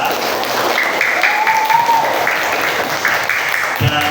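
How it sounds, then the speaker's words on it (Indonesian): Applause in a classroom setting: a sustained, fairly loud burst of many hands clapping for about four seconds, with a faint tone and voices mixed in. "tepuk tangan untuk Malaysia"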